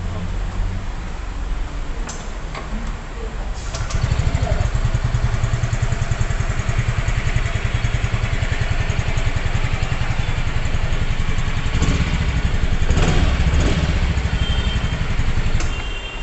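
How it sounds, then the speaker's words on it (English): A 2020 Yamaha Fascino fuel-injected scooter engine catches a few seconds in and settles into a steady, close idle with a low throbbing rumble and light mechanical clatter. "Now let's start the engine."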